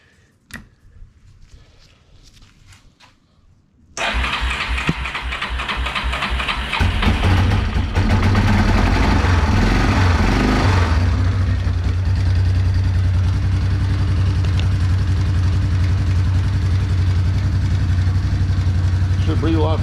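After a few quiet seconds, a 1997 Yamaha Big Bear ATV engine fires up nearby and settles into a loud, steady idle that runs on without a break.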